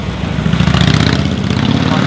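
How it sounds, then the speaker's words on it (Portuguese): A loud motorcycle passing close by, its rough engine drone filling the whole stretch with a steady low rumble and slight pulsing. "acabou de passar uma moto barulhenta"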